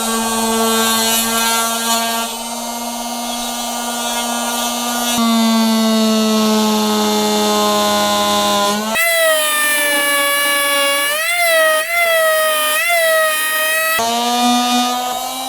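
A power saw cuts baseboard trim at a 45-degree angle, a loud, sustained whine whose pitch shifts and wavers as the blade moves through the wood, then briefly drops and climbs again near the end.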